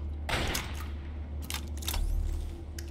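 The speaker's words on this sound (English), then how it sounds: "I just heard plasma shots and gunshots" Gunfire and plasma weapon shots in the Fallout 3 video game, heard as several sharp distant bursts spread across the moment over a steady low hum, with no talking.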